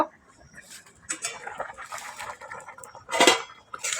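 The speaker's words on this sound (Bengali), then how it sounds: "একটু নেড়ে দিলাম।" A spoon stirs fish and gram-flour kofta curry in a pan, giving a few separate scraping clinks and knocks, the loudest burst near the end, with no voices.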